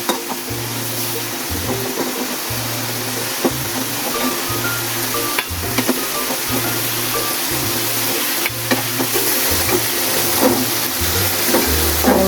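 Small pieces of fish being stirred into a cooked spice paste in a pan, a steady sizzle and bubbling with a low rhythmic hum and occasional scraping clicks from the stirring spoon.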